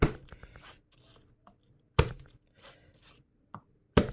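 A knife splitting and chopping food on a board, with sharp, loud cuts in an irregular rhythm and brief rustling between them, close up and with no talk.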